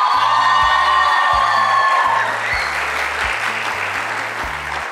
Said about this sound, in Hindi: तालियां बजा रही हैं